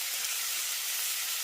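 Potato, aubergine and prawns fry together in a pan, giving a steady, close sizzling hiss that stays even throughout with no talking.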